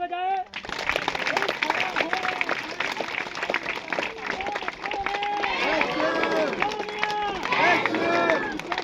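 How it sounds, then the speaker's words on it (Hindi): A church congregation claps hands loudly and continuously, with dense overlapping claps, while a preacher speaks over them and shouts and voices from the crowd join in. "ताली बजाए।"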